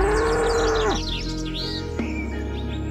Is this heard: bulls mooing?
yes